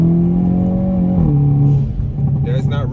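A Hyundai Kona N fitted with an SXTH Element downpipe revs with a smooth, tonal exhaust note that rises and shifts pitch, close and loud, with a short burst of higher whine near the end.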